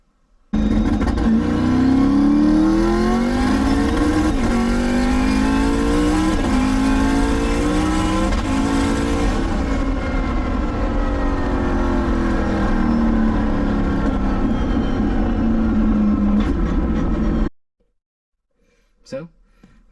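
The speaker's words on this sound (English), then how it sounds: "my favorite, the rolling anti-lag button. Here's a quick demonstration of it." A Motec-equipped C6 Corvette running rolling anti-lag, its engine droning loudly and steadily with repeated rising and falling surges for about seventeen seconds before cutting off abruptly, followed by a short faint sound.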